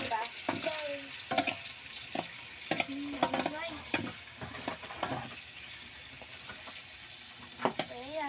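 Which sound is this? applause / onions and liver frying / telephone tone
onions and liver frying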